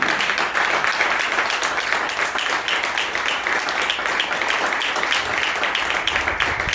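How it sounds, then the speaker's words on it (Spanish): Congregation applauding in a church, a steady, dense wash of clapping that holds loud and even from start to finish with no other sounds standing out. "Dele fuerte el aplauso al Señor."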